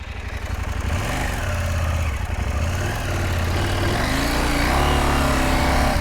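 A KTM 790 Adventure R motorcycle engine revs hard while riding through deep sand, a loud, close, rough mid-pitched roar with pitch swings as the throttle rises and falls, no speech.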